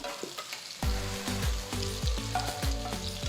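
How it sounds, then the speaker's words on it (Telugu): Eggplants sizzle and fry in hot oil in a pan. A steady, close crackle swells suddenly as the pieces go in, then continues with rhythmic stirring and scraping, with no talking. "నూనె వేడెక్కిన తర్వాత మనం తయారు చేసి పెట్టుకున్న వంకాయల్ని ఒక్కదాని తర్వాత ఒకటి జాగ్రత్తగా ప్యాన్లోకి వేసుకోవాలి"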